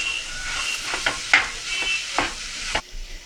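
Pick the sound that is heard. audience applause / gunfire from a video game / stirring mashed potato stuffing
stirring mashed potato stuffing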